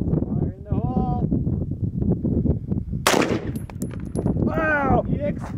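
At an outdoor range, a single loud gunshot from a 5.56 rifle fired against a 9mm, a sharp crack midway with a short ringing tail, with people talking and calling out before and after.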